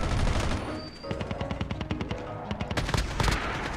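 Rapid automatic gunfire bursts from Call of Duty Mobile gameplay, loud and close, with dense rattling volleys and scattered individual shots throughout, no talking.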